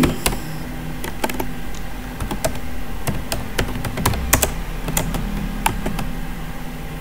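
Steady rapid typing on a computer keyboard, dense irregular clicks and key taps running throughout at close range with no talking over them.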